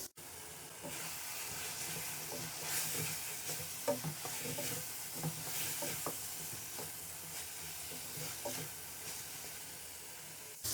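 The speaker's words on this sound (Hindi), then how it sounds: "अब हम इसको बहुत अच्छे से भून लेंगे।" Chicken white karahi with green chili and cashew paste sizzles steadily in a pan, overlaid by repeated scraping clicks of a spoon stirring it close up.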